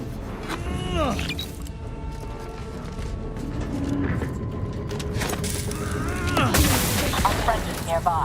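Gunfire in the video game Outer Worlds 2, a dense run of shots and bursts mixed with synthetic robotic voices and game effects, loud and sustained, with a sharper flurry near the end.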